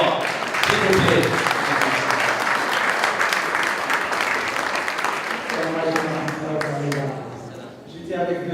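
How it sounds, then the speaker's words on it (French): Audience at a charity gala applauding loudly and steadily, a dense wash of clapping that carries on throughout while a voice speaks over it toward the end. "applaudissez-le très fort"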